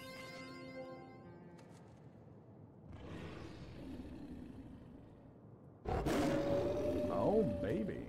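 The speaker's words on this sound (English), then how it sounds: "Fenrir? We're gonna fight a big wolf?" Fenrir, a giant wolf boss in Final Fantasy XIV, lets out a loud, deep roar with growling sweeps after a quieter stretch of game sound and low rumbling.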